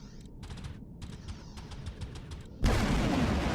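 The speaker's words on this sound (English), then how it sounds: "I know what's causing those explosions. It's the antimatter weapons the Terran uses." Antimatter weapon fire in the space video game X3 Terran Conflict: rapid bursts of crackling gunfire-like blasts patter irregularly, then a loud, dense roar of explosion noise erupts and holds to the end.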